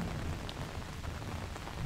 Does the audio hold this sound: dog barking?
no